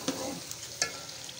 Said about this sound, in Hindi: अब हम इसमें ऐड करेंगे अजवाइन और अच्छी तरह इसको मिक्स कर लेंगे।